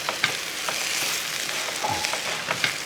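Sliced raw plantain stir-frying in a pan for mezhukkupuratti, giving a soft continuous sizzle broken by a few scraping stirs of a spatula, close and fairly quiet with no voices.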